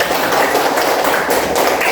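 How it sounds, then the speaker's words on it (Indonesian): A classroom of students claps for a classmate, a dense, loud burst of rapid overlapping hand claps filling the room evenly for about two seconds without speech. "Oke, tepuk tangan dulu buat kamu."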